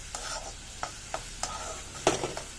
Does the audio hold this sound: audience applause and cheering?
no